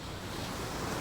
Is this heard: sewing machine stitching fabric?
no